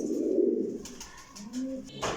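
A pigeon coos softly at close range, giving a low throaty burst followed by a shorter second coo.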